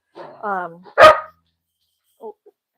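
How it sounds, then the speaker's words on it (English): A dog gives a short whine and then one loud, sharp bark close by, followed by a couple of faint small yips. "The dog is noisy."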